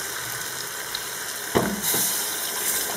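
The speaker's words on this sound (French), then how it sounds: "là je vais rajouter de l'eau." Cardoon cooking water poured into a simmering chicken and cardoon sauce, a short splashing pour that starts midway and runs steadily to the end over faint kitchen background.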